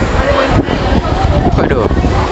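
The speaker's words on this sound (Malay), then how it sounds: "Kuat doang angin dia." Strong wind on Pangkor island, likely near a ferry, buffeting the microphone with loud, gusty roaring and rumbling. Voices talk faintly underneath.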